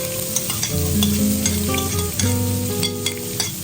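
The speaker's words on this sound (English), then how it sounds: "Next, I will add my chopped garlic and purple onion." Chopped garlic and purple onion sauté in coconut oil and butter, a close sizzle with scraping stirs and clinks of a utensil against the pan, under a sustained tonal hum.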